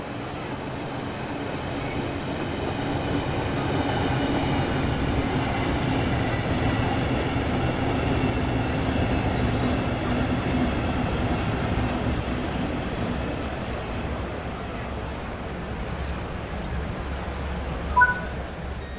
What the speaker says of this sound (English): This train is the British Rail Class 395 Javelin, manufactured by Hitachi.